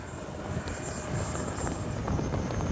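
A Freewing L-39 80mm electric ducted-fan RC jet flies a low pass with its landing gear down, making a steady, loud whooshing whine that holds throughout, outdoors with no speech.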